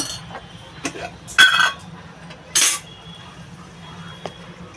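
Cooked elephant foot yam (ol) being mashed in a pot for a prawn curry, heard as a few scraping, clinking strokes of a utensil against the metal pot, with two louder bursts among quiet handling.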